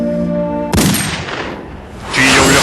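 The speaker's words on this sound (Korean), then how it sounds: "뒤에 울려 퍼지는 단발의 총성" A single gunshot rings out loud and sharp, a sudden blast that cuts off a sustained tone and decays into a rough rumbling tail before another burst of noise.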